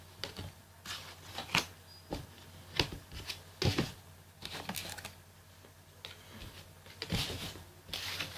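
Tarot cards are shuffled by hand for a reading about a Paris Saint-Germain versus Tottenham final, giving irregular soft riffling and flicking bursts over a low steady hum, close and fairly quiet with no talking.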